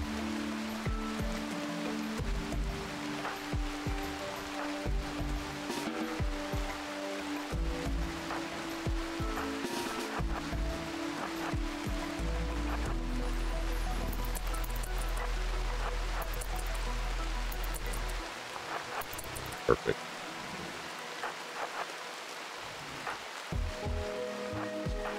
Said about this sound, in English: Always raining, of course.